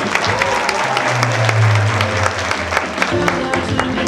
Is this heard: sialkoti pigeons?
no